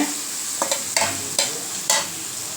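Constant sizzle of potatoes frying in a pan, broken by four or five sharp scraping strokes of a spatula stirring them.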